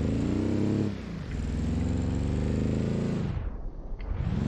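Autobella racing car in BeamNG.DRIVE, a loud revving engine climbing through the gears with a sharp cut near the end before the roar returns.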